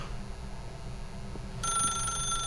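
A telephone in The Stanley Parable starts ringing partway through, a bright electronic trill that cuts in suddenly over a low background hum and continues to the end.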